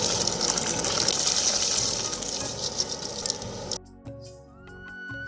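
Washed rice tipped into a pot of boiling water for cooking rice, making a steady, loud gushing pour for about four seconds before it cuts off abruptly, with no talking.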